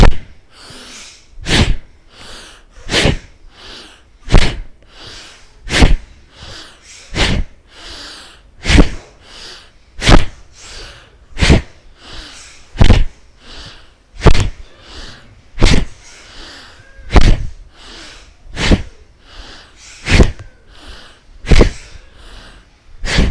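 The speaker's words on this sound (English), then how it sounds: "blow your nose out by bringing down your chin" Forceful nasal exhales in a breathing exercise, sharp bursts through the nose repeating in a steady rhythm about every second and a half, loud and close with quieter breaths between.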